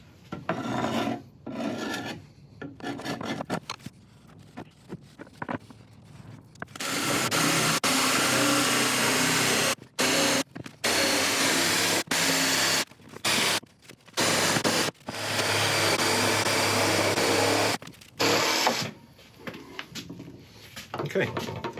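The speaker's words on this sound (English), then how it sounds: "get out the jigsaw, cut it out" A jigsaw cuts a circle out of a wood burl in loud rasping bursts broken by short pauses, with a voice talking between the cuts.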